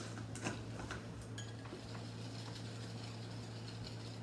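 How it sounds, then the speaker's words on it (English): Butter and sugar mixture being whisked in a bowl for cupcakes, a steady run of quick metallic ticks and scrapes against the bowl, with no talking. "now we finished whisking that butter sugar mixture"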